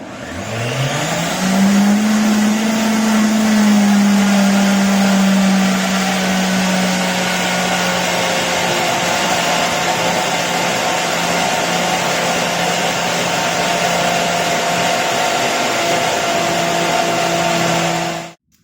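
A kitchen blender runs steadily for about eighteen seconds, whirring loud and close as it blends a whole-food plant-based sauce. The pitch rises briefly at the start, then settles into an even drone before cutting off abruptly.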